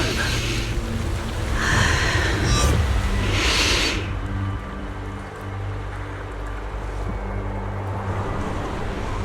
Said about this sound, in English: The wind. It's shifting.